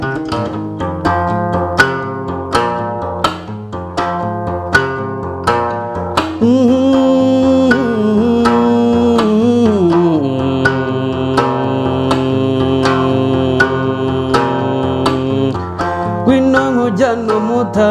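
A traditional Rwandan inanga zither is plucked in a quick, steady pattern of bright ringing notes. After a few seconds a sung voice joins over the strings, and both stay close and loud throughout.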